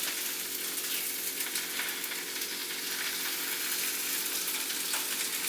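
One whole egg and egg whites fry in a pan with a constant, close bright sizzle that crackles steadily and never pauses.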